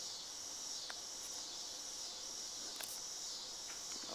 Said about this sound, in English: can you hear the cicadas in the background?